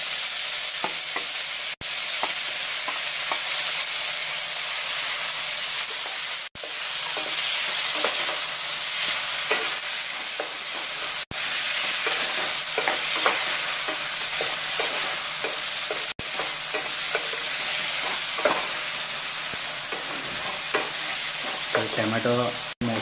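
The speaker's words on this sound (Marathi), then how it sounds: "तर टोमॅटो मऊसर वस्तूप्रमाणे आपण भाजून घ्यायचं आहे। आधी मध्ये हलवत राहायचं।" Medium-sized tomatoes with turmeric sizzle steadily as they roast in a pan, with continuous scraping and stirring close by, alone and without talk.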